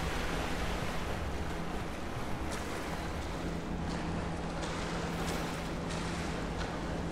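Lara swimming through a flooded cave in Rise of the Tomb Raider: a steady wash of water and surf-like noise with occasional soft splashes, continuous and fairly quiet.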